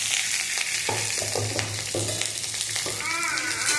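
Sweet corn kernels sauté in hot cooking oil, giving a loud, dense, continuous frying hiss up close, with light stirring knocks scattered through it.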